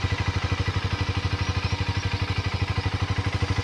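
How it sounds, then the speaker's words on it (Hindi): A Harley-Davidson X440 motorcycle idles steadily, its engine giving a close, even low-pitched thump that beats rapidly and regularly with no voices over it. "अब स्टार्ट करते हैं हार्ले को। ये देखिए आइडियल कंडीशन पर इसका साउंड सुनिए।"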